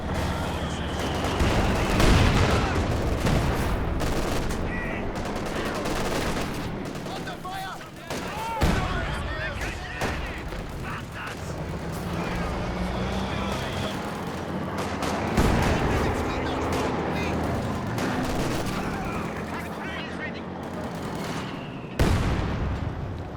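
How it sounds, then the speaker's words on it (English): Mortar barrage and gunfire from a Company of Heroes 2 match, with repeated explosive booms and bursts of shots in a dense, continuous battle mix while a commentator talks over it. "Barrage and mortar barrage popping off on these team weapons"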